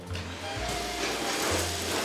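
A hot tub vacuum runs with a loud, steady motor hum and airy rush. Its pitch drops and rises briefly as it pulls, and nobody talks over it.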